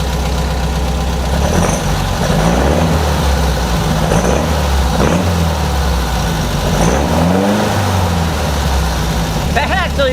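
Beck 550 Spyder replica engine running steadily at a loud, close idle with its two carburettors synced, the rumble rising and falling in a few light revs, with brief voices over it.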